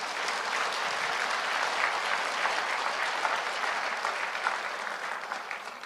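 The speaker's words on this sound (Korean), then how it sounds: "박수를 치려면 다 치세요." An audience at a church lecture on Korea's founding breaks into sustained applause, a loud, dense wash of many hands clapping evenly for several seconds with no speech over it.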